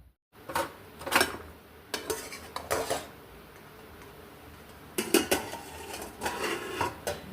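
Metal clatter of a lid being set and adjusted on a cooking pot of banana-stem curry with potatoes, a series of close, sharp clanks in two clusters with brief pauses between.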